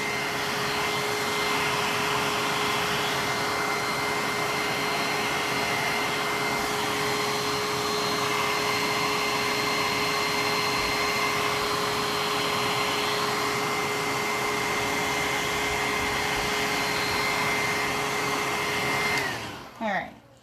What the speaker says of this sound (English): when you use a blow dryer